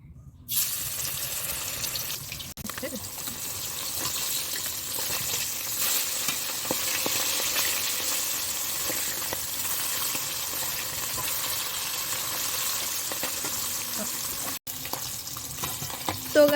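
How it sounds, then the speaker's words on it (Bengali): Rohu fish pieces fry in hot oil in a kadai, giving a steady, close sizzle and crackle that runs unbroken for the whole stretch with faint stirring noises and no talk. "তেলটা গরম হয়ে গেছে, এবার মাছগুলো ভাজার জন্য তুলে দেবো।"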